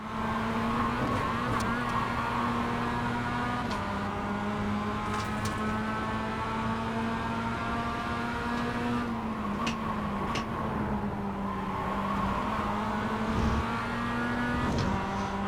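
A race car engine drones steadily on a circuit during a race, holding a high, even pitch with brief dips and shifts as it changes gear and lifts off, loud and close throughout with no talk.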